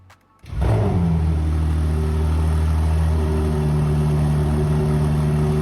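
A Ferrari 296 Speciale V6 engine cranks and fires up after a brief quiet, then settles into a loud, deep, steady rumble with a slight rise in revs.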